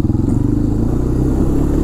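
A Honda 300 Fourtrax 4x4 ATV idles and runs in first gear with a loud, close, steady low engine thrum and rapid pulsing beat throughout.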